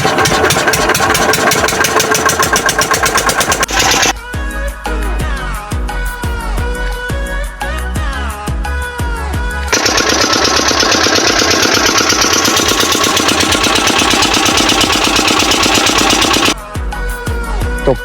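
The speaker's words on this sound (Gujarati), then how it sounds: "અને હવે થશે ગાઈસ મશીન ચાલુ તો તમે દેખો" A diesel water pump engine for field irrigation cranks and catches, then runs in a loud, steady rhythmic chug at close range, with brief changes in tone as it settles into idling.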